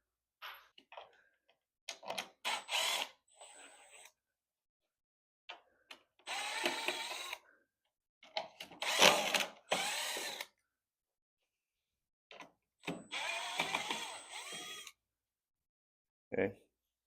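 A power drill in short, loud bursts backs screws out of an equipment crate, each whir followed by a pause, with scattered clicks and handling noises in the gaps.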